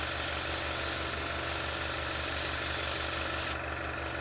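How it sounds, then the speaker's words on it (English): An airbrush with a 0.5mm nozzle sprays thinned hull red paint in a test pass, making a continuous close, loud hiss over a low compressor hum. The hiss eases off near the end. "Loaded hull red into the airbrush, and we're going to do a test."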